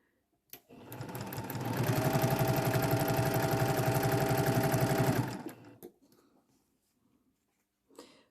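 A sewing machine runs continuously for a few seconds, stitching patchwork quilt seams with a rapid, even mechanical chatter, close and loud, before stopping into near silence.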